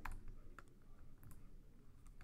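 Computer keyboard typing while entering Java code, a few soft scattered key clicks with quiet gaps, close and faint, no talking.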